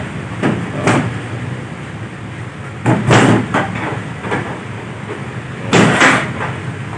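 Door of a pickup truck's tarp-covered cargo box, built on an iron frame, being shut: a few loud flapping, rattling thuds, with the main bursts near the start, middle and end, over background noise.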